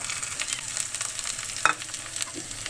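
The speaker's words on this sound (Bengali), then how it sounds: "এখন আমি এগুলো সুন্দর করে ভেজে নেব" Steady hiss of ginger and cumin paste frying in a pan, with a few scraping stirs and a sharp clink partway through.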